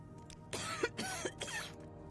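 Three quick, harsh coughs with throat clearing from one person, close and fairly loud, each burst short and separated by brief pauses over a low background hum.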